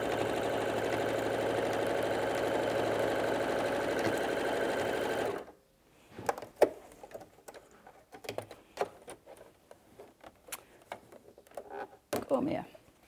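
A sewing machine runs steadily for about five seconds while stitching a BBQ roll mat, a continuous close motor whir, then stops, followed by faint clicks and handling noises with brief talk.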